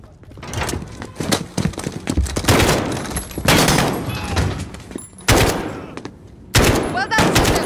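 Rapid bursts of gunfire in the Call of Duty Modern Warfare video game, loud repeated volleys with sharp broadband cracks through most of the stretch, separated by brief lulls, with faint voices mixed in.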